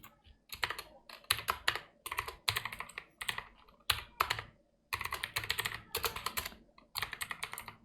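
Rapid typing on a computer keyboard while writing CSS code, with bursts of crisp clicking keystrokes separated by short pauses, close and clear with no voices.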